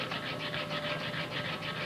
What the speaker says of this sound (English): We can start stoning it now to fine the surface down towards the polish.